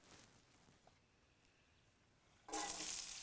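Red onion dropped into hot, smoking oil on a cast iron grill top, bursting into a loud, bright sizzle that starts abruptly and holds steady after a quiet lead-in.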